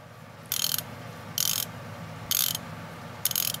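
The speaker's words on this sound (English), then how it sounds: "And this ratchet is nice and smooth." Vintage Waldman ratchet being turned, four separate bursts of rapid fine clicking at an even pace, close and crisp against a quiet background.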